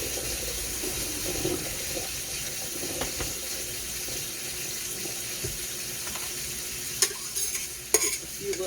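Brussels sprouts frying in a pan, a steady close sizzle throughout with a few clinks and stirring scrapes near the end, and no talk.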